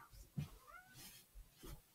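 A cat meows softly indoors, two or three short, faint calls spaced apart in an otherwise quiet room.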